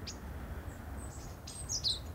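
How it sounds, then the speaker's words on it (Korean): Birds chirp with thin, high, brief calls near a small wooded grove of persimmon, cornelian cherry and ivy, scattered among a steady low outdoor rumble with no voices. "새소리 따라 오솔길을 걷다 보면 이 동네 터줏대감을 만납니다."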